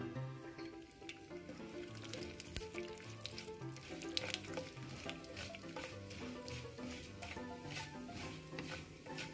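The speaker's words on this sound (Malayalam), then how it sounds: "നമ്മൾ എടുത്തു വെച്ചിരിക്കുന്ന ഉഴുന്നുപരിപ്പ് ഇതിലേക്ക് ചേർത്ത് ഒന്ന് ഫ്രൈ" Urad dal fries in a pan of hot oil after mustard seeds have popped, for a snake gourd and carrot thoran, a soft, steady sizzle with stirring scrapes and light crackles throughout.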